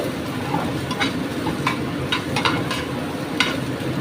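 Onions stirred in a frying pan for a Goan chicken fry, a steady close sizzle with soft scraping strokes from the spoon, no talking.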